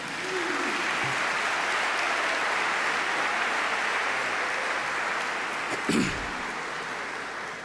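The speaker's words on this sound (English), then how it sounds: "please give a big warm round of applause for Student Minister Hafiz Muhammad" An audience at a religious lecture gives a warm round of applause for the guest minister, a steady, full wash of clapping that holds evenly for the whole stretch, with a brief bump near the end.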